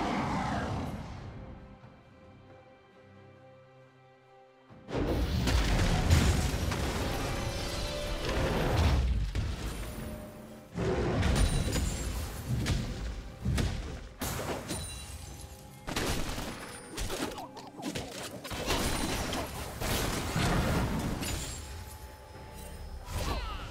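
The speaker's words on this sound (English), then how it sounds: "Blue team's turret has been destroyed." A turret collapses in the League of Legends video game with a loud burst of shattering, crashing impacts and whooshes that erupts after a quiet stretch, then continues as layered game effects and explosions.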